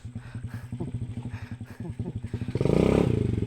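Motorcycle engine chugging in a fast, even rhythm while riding over a rocky road near a blue lagoon, with clattering bumps, then a louder surge of revving near the end; no talk.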